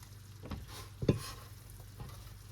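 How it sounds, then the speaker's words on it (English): Ragu sauce with pasta is stirred in a pan, producing close, wet scraping strokes about every half second with a louder scrape midway, over a faint sizzle and no talk. "Mix that around."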